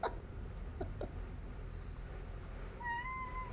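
A cat gives a short, clear meow near the end, close by at a door, after a few seconds of low steady background hum with a couple of faint knocks.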